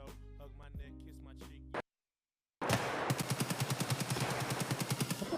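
A gun in the video game Escape from Tarkov fires a rapid, evenly spaced automatic burst lasting a few seconds, loud and close, after a short tonal sound and a moment of dead silence.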